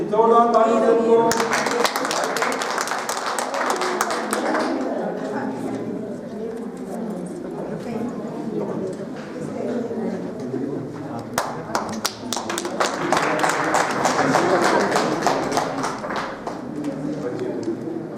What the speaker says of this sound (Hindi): जोरदार ताली से उनको